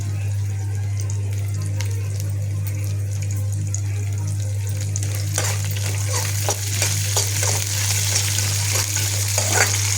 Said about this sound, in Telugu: మంచిగా అన్నీ నూనెలో వేయించి వేయించినాక